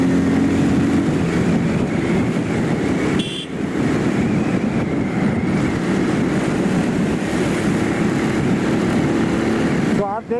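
A Bajaj Pulsar 220F motorcycle engine revs steadily and loudly up close for about ten seconds, a continuous broadband roar with a brief dip in the middle and a short drop near the end.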